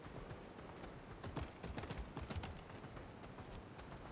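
Horse hooves clip-clopping in the video game Palia, a steady run of close, moderately loud hoofbeats over a continuous background bed, with no talk.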